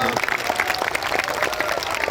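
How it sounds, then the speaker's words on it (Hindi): Loud, dense applause from a large crowd at a Sanatan Hindu Ekta Padyatra religious gathering, steady clapping filling the whole stretch with a voice faintly mixed in. "जोरदार ताली बजा करके इन दोनों के आशीर्वाद"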